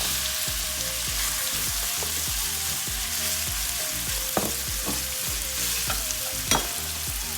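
Onion frying in a pan for pork vindaloo while it is stirred, a continuous close sizzle broken by regular scraping strokes of the spoon.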